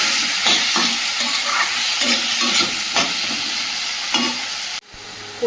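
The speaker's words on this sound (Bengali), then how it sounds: "এর মধ্যে এই যে কচুর গাঁটিটা দিয়ে দেবো, হলুদ মিশিয়ে রেখেছিলাম, ভালো করে ভেজে নেব।" Taro pieces mixed with turmeric fry in hot oil with a steady loud sizzling hiss, broken by occasional stirring scrapes, then a sudden drop in the sizzle near the end.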